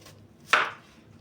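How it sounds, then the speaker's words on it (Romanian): A knife makes one sharp, close chop on a cutting board while food is cut finely for a caraway soup with eggs and bread croutons. The stroke is short and crisp against a quiet kitchen background. "O tăiem mărunt."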